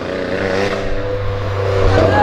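Steady stream of cars passing one after another on a road, a broad continuous engine and tyre roar that swells slightly toward the end, with people talking over it.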